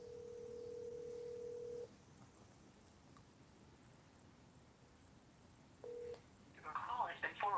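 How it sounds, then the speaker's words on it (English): Telephone keypad tones while a voicemail password is entered: a long steady tone for about two seconds, then a short beep near six seconds, followed by a burst of warbling electronic tones at the end. "You've pressed an incorrect key."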